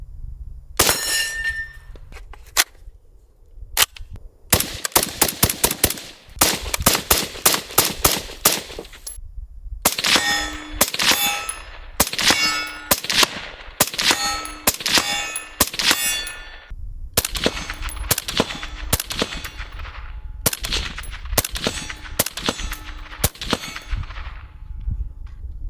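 Rapid shots from a Springfield Armory Hellion 5.56 bullpup rifle ring out with bright metallic clangs from steel targets, in fast strings and single shots with brief pauses, loud and close throughout.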